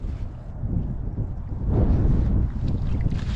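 Strong wind gusting across a frozen Lake Onalaska, a steady low rumbling roar buffeting the microphone, swelling louder midway and staying close and continuous with no voices.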